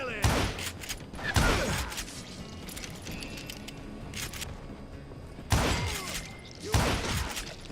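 Gunshots in the Western shooter Call of Juarez Gunslinger, several loud cracks in pairs near the start and end with a quieter stretch between, mixed with game ambience.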